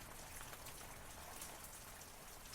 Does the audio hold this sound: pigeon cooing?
no